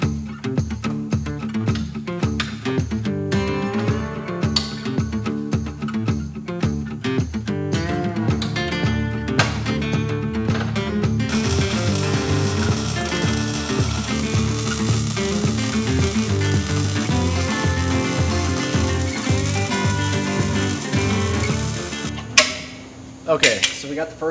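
Steel is welded onto a John Deere 5020 tractor frame during a repower: a loud, steady crackling arc hiss holds for about ten seconds, after a stretch of talk and clanking shop noise, and ends abruptly.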